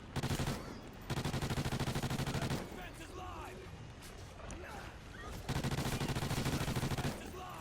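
Bursts of rapid rifle gunfire in the Call of Duty video game, loud and sustained at the start and again near the end, with a busier stretch of game noise in between and a voice talking over it.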